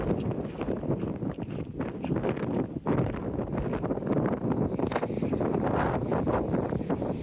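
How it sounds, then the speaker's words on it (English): Strong outdoor wind buffeting the microphone, a continuous loud rumbling roar with gusty fluctuations and no clear voices. "Certainly got the windy blows up here."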